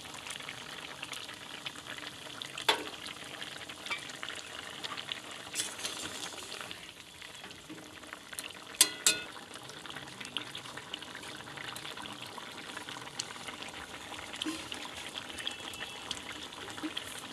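Faint, continuous bubbling and simmering of a pot of curry as raw banana koftas and green chillies go in, with scattered soft clinks and a few sharper knocks along the way.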